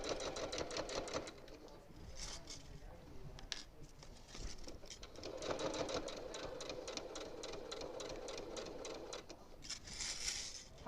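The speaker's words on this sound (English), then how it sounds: "I'm going to keep sewing down this edge until I'm a 1/4 inch away from the edge" A sewing machine stitches binding along the edge of a quilt. The needle chatters in a fast, steady rhythm in several runs with brief pauses, fairly quiet and close, with a soft voice now and then.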